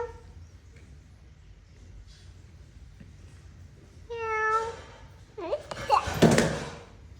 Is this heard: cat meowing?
yes